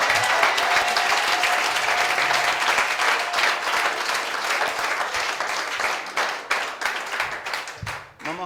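A church congregation applauds steadily through a worship service, with dense sustained clapping that swells and thins slightly near the end, and faint voices mixed underneath.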